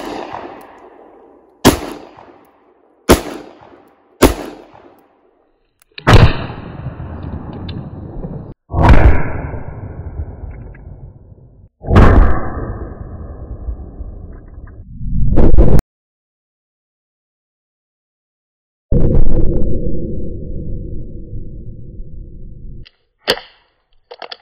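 Shots ring out from a Thunderstruck .22 WMR firearm: a series of sharp, loud cracks at irregular intervals, each followed by a ringing decay, with a long pause near the end and no talk.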